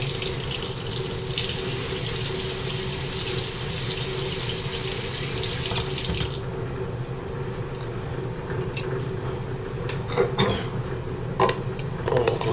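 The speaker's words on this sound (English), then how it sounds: "Let's rinse it off." Tap water runs steadily to rinse shaving cream off a spoon, making a loud, continuous close splashing rush, then softer running water broken by a few clinks and knocks.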